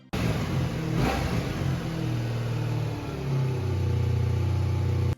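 A Honda V45 motorcycle engine, just back together after a carburetor clean and running a little smoky, revs loudly and steadily close by, holding a throaty drone before settling slightly lower near the end.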